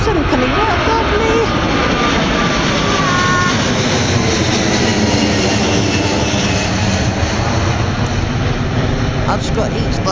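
A plane passes overhead near Heathrow Airport, its engine roar loud and steady throughout with a broad rumbling wash that masks other sounds, and a voice speaks underneath.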